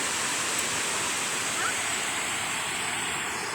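Paglitaw Falls in Rizal sends up a constant, dense roar of falling water, heard close and steady throughout.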